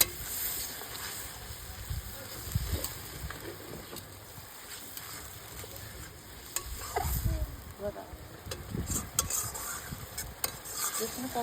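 Spice paste with turmeric frying in a pan on a rooftop, soft sizzling with intermittent scraping and stirring strokes, fairly quiet and close, with occasional background voices.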